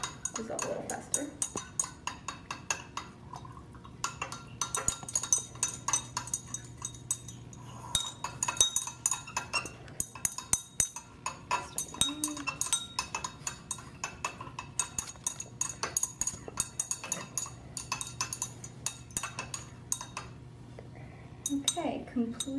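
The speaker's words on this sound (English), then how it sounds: "do the same thing, stir with the potassium iodide" Potassium iodide solution stirred in laboratory glassware, with light repeated clinks and taps of a stirring rod against glass, close and fairly quiet, under occasional talk.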